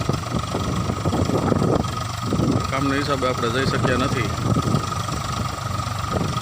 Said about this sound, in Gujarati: ટ્રેક્ટર ચાલતું હતું સવડામાં